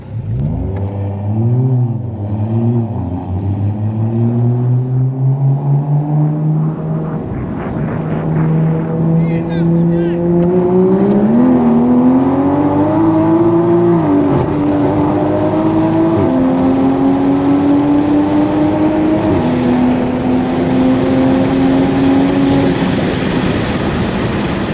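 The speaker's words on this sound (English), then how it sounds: "Damn, it sputtered right there." A car launches hard at a street race with a 500 hp Mk5 Supra among the field, its engine revving up through rising, wavering pitches, stumbling into a sputter before pulling on loudly and steadily while people talk nearby.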